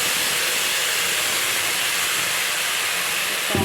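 Onions and spices frying in oil with bay leaf give a loud, continuous hissing sizzle that stays even throughout, close to the pan, for a fish curry.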